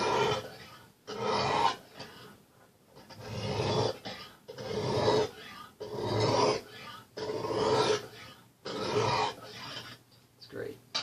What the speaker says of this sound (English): it's been a little while since I've sharpened this, so I'm actually going to go ahead and hit it one more time on both sides